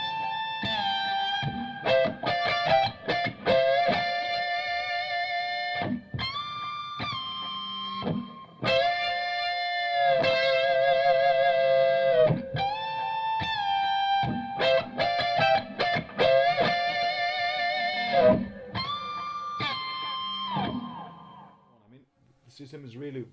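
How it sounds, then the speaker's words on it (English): An electric guitar plays harmonized twin lead lines, bright and sustained, with delay repeats and reverb trailing behind each phrase. "you get the answer of guitar being more far away with delay and reverb"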